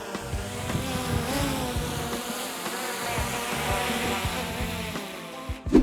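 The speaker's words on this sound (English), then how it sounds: "you've got to be really careful with the drone in the wind" A small, light drone buzzes with a high, insect-like whine, its pitch wavering as it hovers and moves in the wind, steady and fairly close.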